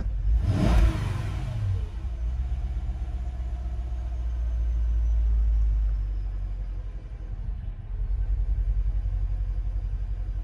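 A Mercedes engine idles rough, with a steady low rumble that swells and dips unevenly and stumbles at low revs, heard up close with no talking.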